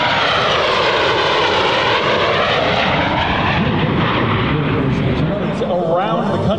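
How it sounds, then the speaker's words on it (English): A loud F-18 jet roars steadily overhead at Edwards Air Force Base, its broadband engine noise filling the scene with a slowly shifting whine. "That's the F-18 right there."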